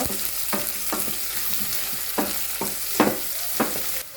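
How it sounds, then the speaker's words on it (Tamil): Onion with garlic, green chili and curry leaves sizzles in a pan under a steady hiss, punctuated by several close spatula scrapes and taps at irregular intervals; no one speaks. "உள்ளி பச்சை மிளகாய் கருவேப்பிலை எல்லாத்தையும் சேர்த்துக்கொள்வோம் சேர்த்து வடிவாக மிக்ஸ் பண்ணி வதக்குங்க"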